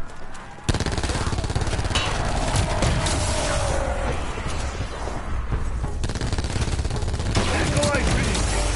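Sustained rapid gunfire in the Call of Duty Blood of the Dead zombies mode, a dense continuous stream of shots starting abruptly and running loud throughout, with some game noise underneath.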